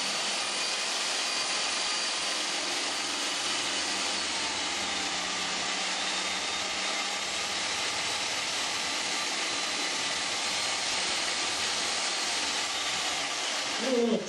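Reciprocating saw plunging into a pumpkin to gut it for carving, a loud continuous buzzing whine held steady from start to finish with no talk.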